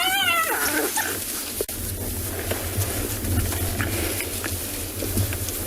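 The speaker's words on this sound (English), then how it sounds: "Now that hyena is making that noise to discourage being attacked." A young hyena lets out a wavering, quavering cry near a wild dog pack's kill in the African bush, loud and brief at the start before fading into outdoor ambience and a low rumble.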